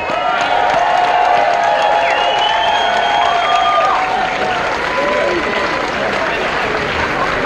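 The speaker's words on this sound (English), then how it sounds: "I would ask for a round of applause for all of our contestants" A crowd at a gyoza contest applauds loudly and continuously for the contestants, with cheers and whoops rising over the dense clapping.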